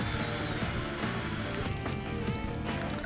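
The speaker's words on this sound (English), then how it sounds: "let's drill it and give it a sample" A drill bores into a wine barrel to draw a sample, producing a short, dense grinding whir that shifts into a brief rattling, clicking burst, heard up close with no talk.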